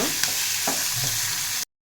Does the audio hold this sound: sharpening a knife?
no